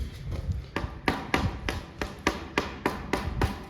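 A rigid metal pipe taps repeatedly on a hard tiled floor to check for sunken flooring, about ten sharp close hits in a steady rhythm with a faint hollow ring.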